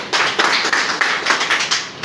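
Applause at a political party meeting in Lucknow near Charbagh railway station comes as a short burst of close, sharp claps in quick succession.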